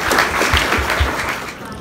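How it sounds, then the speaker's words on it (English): Audience applause fills the hall at a comic con cosplay contest in Bury St Edmunds in 2018, a steady wash of many hands clapping at once for about two seconds, with some voices mixed in. "Would you like to give her a round of applause as she makes her way to the back of the stage, everybody?"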